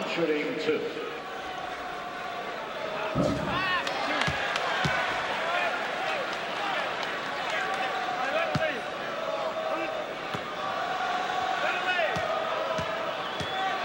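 An NBA arena crowd during a 1986 Bulls at Knicks game roars and chants Michael at Jordan, a loud, drawn-out yelling that swells and holds under a commentator's talk, with sneaker squeaks and thuds from the court.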